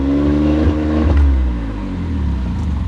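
A Smart car engine struggles and revs on a jump-start, with a low rumble that rises in pitch and then sags and fades away, heard close and loud with no one talking.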